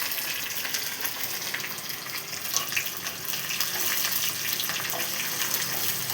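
Garlic and curry leaves fry in hot oil with dried and green chillies, a dense continuous hissing sizzle with scattered crackles, close and steady throughout, without talking.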